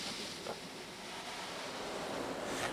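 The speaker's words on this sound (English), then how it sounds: "Okay, we're getting it sort of rinsed." A 2021 Istobal Tracer automatic car wash rinsing a car, heard from inside as a loud, continuous rush of spraying water drumming on the body.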